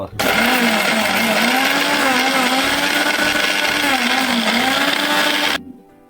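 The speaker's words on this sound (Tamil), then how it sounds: "பூண்டு, வறுத்த மிளகா போட்டுக்கிட்டு மிக்சியில் போட்டுட்டு கைஸ் சுவிட்ச் போடாமல் ஆன் பண்ண பார்த்தீங்களா" A kitchen mixer grinder whirring loudly and steadily as it grinds garlic and fried red chillies, a close, continuous motor whine that runs for several seconds and then cuts off abruptly.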